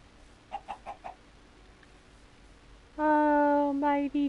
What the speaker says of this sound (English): Oh, mighty chicken.